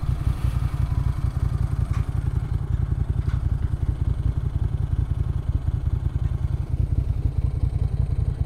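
A 1994 Ducati 900 Supersport idling with its clutch disengaged gives a close, steady, rapid rhythmic rattle and thump over the low engine pulse, continuous for the whole stretch without speech.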